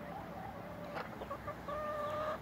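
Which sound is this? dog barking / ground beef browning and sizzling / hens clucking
hens clucking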